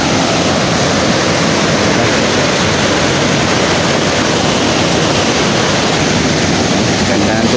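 Alegria Falls in Surigao del Norte roaring as a dense, continuous wash of falling water, loud and close, with no pauses.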